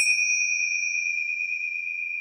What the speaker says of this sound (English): These are my chimes and they're very healing. So if there's anyone in the chat, if I just clink them